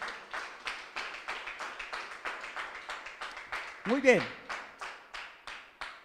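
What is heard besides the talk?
congregation applause in church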